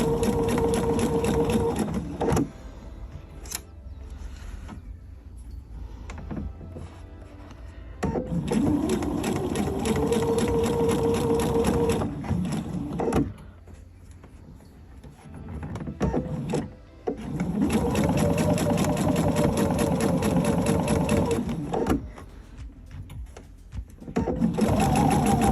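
Sewing machine stitching around the edge of a fabric tree skirt, running in three long steady bursts of rapid whirring with short pauses between them.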